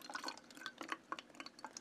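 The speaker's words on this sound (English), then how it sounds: "Let's get this filled up with water" Water poured into a container for a gasoline ethanol content test, heard as quick irregular splashing and dripping, close and fairly quiet, with no voices.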